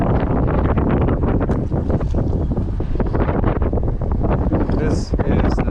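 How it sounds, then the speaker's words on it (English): Strong, steady wind buffets the microphone beside a South Florida canal, roaring loudly the whole time with no letup. "It is super windy."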